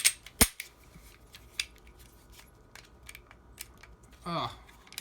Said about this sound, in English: we'll go ahead and take down both these guns